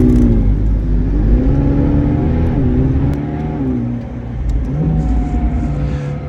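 A McLaren 765LT sports car's exhaust roars close and loud while driving on a mountain road, its pitch climbing and dropping through gear changes and throttle shifts with a continuous rumbling drone.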